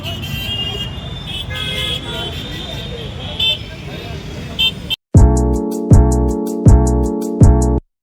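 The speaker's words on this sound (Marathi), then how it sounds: "एवढा ट्रॅफिक आहे पूर्ण भरपर्यंत भरला आहे ट्रॅफिक" Jammed traffic outside a cinema rumbles with scattered distant horn toots, then a nearby car horn blares four loud, evenly spaced blasts.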